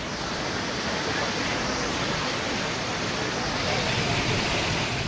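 Water of the Balganga river rushing under a bridge in Tehri during flooding, a dense, continuous roar of turbulent flow, steady and fairly loud with no pauses.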